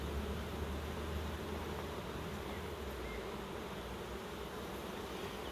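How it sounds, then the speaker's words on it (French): Young honeybees buzz inside a beehive in a dense, continuous drone that stays close and even throughout, with no voices or other sounds over it. "Surtout des jeunes abeilles. Ça chante déjà, c'est un bon signe."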